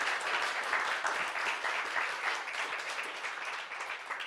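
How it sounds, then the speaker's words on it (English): An audience at a fintech awards ceremony breaks into sustained applause, dense clapping at an even level for several seconds with no voices over it. "I think all 3 of them deserve a round of applause as the leaders themselves"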